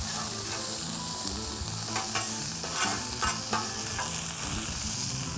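Asparagus spears sear and sizzle in a hot pan, a steady frying hiss with brief clattering scrapes as the spears are flipped partway through; no talking.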